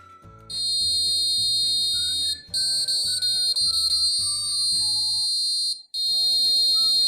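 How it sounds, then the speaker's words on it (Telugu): A shrill piezo buzzer driven by an Arduino plays a simple melody, beeping note by note with brief pauses, loud and close. "ఇక్కడ మనకి బజర్ అయితే ట్యూన్ని ప్లే చేస్తుంది"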